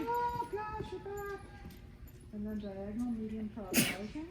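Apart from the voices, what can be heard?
sneeze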